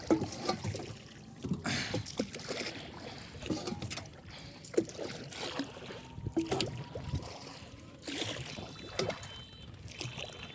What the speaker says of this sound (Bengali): মামা 2 পার দিয়ে নৌকা চালাচ্ছে